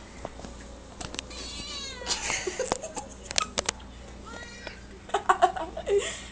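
A domestic cat meows several times at close range, in short bursts, with a person's voice and light laughter mixed in.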